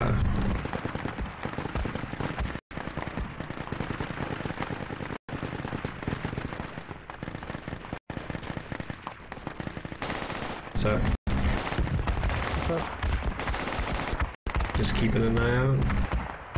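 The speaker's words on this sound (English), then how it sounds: "Who the hell came by and just shot at us for no apparent reason?" Loud, sustained automatic gunfire in a Project Reality firefight, with rapid bursts and a heavy machine gun rattling close by, cut by short gaps, while voices talk over the shooting.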